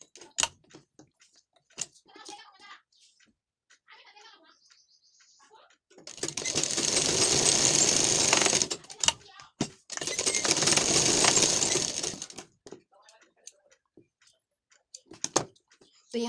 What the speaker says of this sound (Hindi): बिल्कुल साइड से आपको सिलाई करनी है